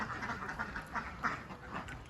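Laying ducks in a farm pen quack steadily, many overlapping calls at close range in a continuous clamor.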